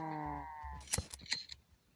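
A mooshroom being sheared in Minecraft: a tonal game chime fades, then a couple of crisp snipping clicks sound close and brief against near silence.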